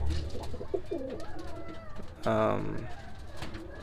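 Roller pigeons coo softly nearby, a low throaty warble that swells briefly, while someone talks over the background.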